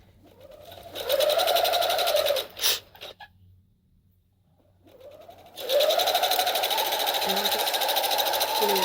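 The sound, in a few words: sewing machine stitching a curved hem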